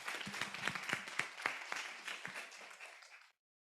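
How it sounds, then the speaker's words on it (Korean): Warm applause from an audience at a high school youth group sermon contest as the next contestant is welcomed, dense steady clapping with a few louder claps standing out, fading off abruptly. "우리 박수로 맞을게요"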